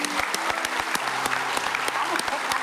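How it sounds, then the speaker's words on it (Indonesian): A studio audience applauds with brisk, steady clapping, individual sharp claps standing out in a moderately loud, continuous burst, with a faint voice briefly audible beneath. "tepuk tangan dong"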